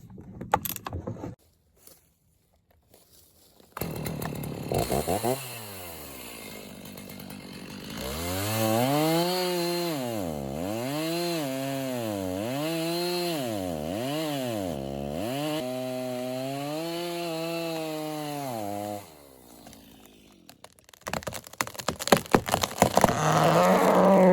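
A chainsaw fitted with a freshly sharpened, newly replaced chain starts up and runs close and loud, its engine revving up and down in repeated surges for about fifteen seconds before it cuts off.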